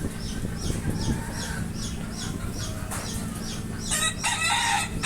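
On a native chicken farm, hens cluck in a steady, repeated pattern while a rooster crows loudly near the end, all close by with no talking.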